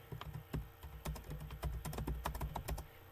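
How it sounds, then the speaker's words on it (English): Fast typing on a computer keyboard, with quick, irregular key clicks up close at a low level and no voices. "there's still a lot of bit of typing because I am chatting it up with friends"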